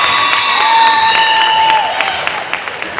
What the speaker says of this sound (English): The crowd was certainly excited about that one